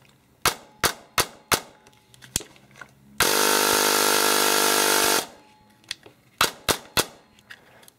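Airsoft DSG gearbox gun with a 10:1 gear setup, Deans connector and high-torque motor, test fired: several sharp single shots, then a dense two-second full-auto burst, then more single shots, loud and close with no talk.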